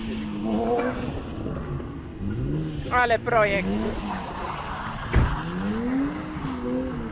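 A Wreck Race car with a 2-litre, 150 hp engine revs in short rising bursts, partly buried under someone speaking nearby.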